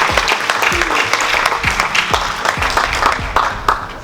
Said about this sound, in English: Can you give another big round of applause?